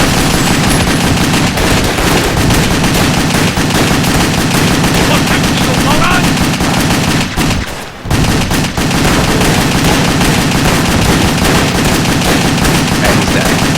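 Rapid, sustained gunfire from the third-person action video game WET, dense and loud throughout with a brief lull near the middle, and a player's voice faintly over it.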